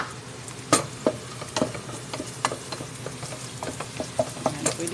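Garlic sautés in a pan for bihon with a low, even sizzle, punctuated by frequent sharp clacks of a utensil stirring and tapping against the pan.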